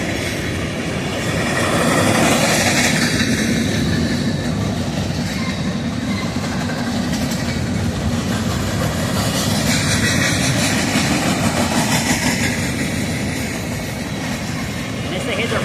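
A southbound train rushes past close by in the evening, a loud, steady roar of wheels and rolling railcars with faint clickety-clack that stays strong throughout, while a person talks over it now and then.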